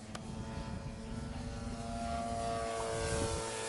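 Engine of an F4B aircraft during takeoff with partial flap: a steady buzzing propeller drone with harmonic whine, building slightly in loudness over a few seconds, continuous and fairly close, with no voices.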